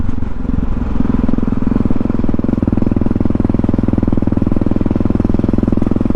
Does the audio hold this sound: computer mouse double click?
no